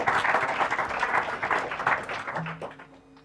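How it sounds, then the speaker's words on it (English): Applause from a seminar audience after a talk on work in the platform economy, dense clapping at close range that swells and then tapers off near the end. "I think one more applause is due"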